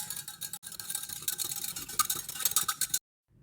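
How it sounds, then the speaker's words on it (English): A stirrer clinks and swirls rapidly through cold coffee in a glass, a busy run of small ticking taps for about three seconds before stopping abruptly. "now we can take our stirrer"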